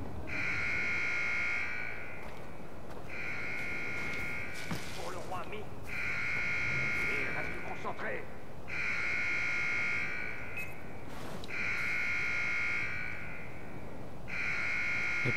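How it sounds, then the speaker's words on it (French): An alarm in Far Cry 4 blares in repeated loud electronic buzzing bursts, about six long pulses with short gaps, while scattered voices and game noise sound underneath. "L'alarme elle a sonné comme ça."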